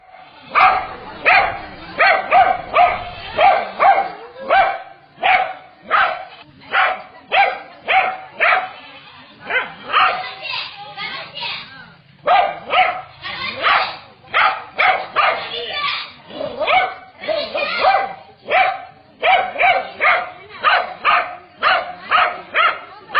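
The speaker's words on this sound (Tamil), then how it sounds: "இன்று காலை அவரது வீட்டிற்குள் நுழைய முயன்ற நல்ல பாம்பை ஜூலி நாய் தொடர்ந்து குறைத்து உள்ளே வர விடாமல் தடுத்தது." A dog barks again and again at a cobra trying to get into a house. The sharp barks come in a fast, uneven run, loud and close, with short pauses and a few higher yips and whimpers.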